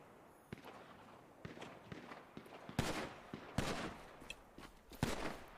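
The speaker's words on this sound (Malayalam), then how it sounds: "വെടിയായി" Gunfire in a police-chase shootout video game: a run of sharp, moderately loud shots at irregular intervals, some in quick bursts, over a low background with faint rustling between them.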